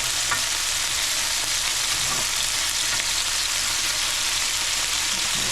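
Chicken pieces fry in a pan with a loud, steady sizzle that fills the whole stretch, a dense hiss with faint crackles and no voices.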